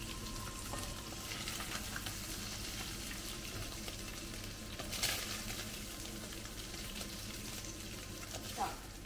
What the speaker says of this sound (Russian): будем обжаривать лук, чеснок и имбирь.